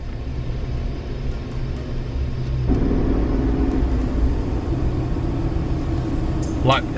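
A 2020 GMC Sierra pickup truck drives and accelerates, its engine a steady low rumble from inside the cab that swells noticeably partway through, while people talk over it throughout.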